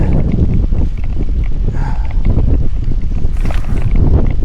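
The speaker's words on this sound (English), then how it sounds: "Oh, it is windy Mary." Strong wind buffets the microphone on a bike ride, a loud, constant low rumble and roar that fills the whole stretch, with faint higher whistling drifting in and out.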